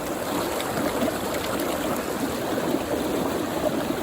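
River flowing on a mountain trail, a loud, steady broadband rush of water that runs unbroken and close by, with no voices.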